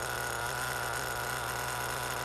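An HPI Nitro 3 RC touring car's nitro engine idles at low, steady revs, a constant close buzzing drone with no change in pitch and no voices.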